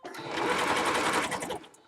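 A sewing machine runs in a quick burst while stitching a costume skirt, its rapid needle clatter close and steady for nearly two seconds before it stops.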